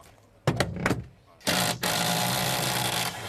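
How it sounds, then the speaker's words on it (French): Firefighters dismantling a crashed car to free the trapped occupant: a few sharp thuds and knocks, then loud, sustained mechanical grinding and cutting noise close by. "Là, je crois qu'ils sont en train de me démonter la voiture."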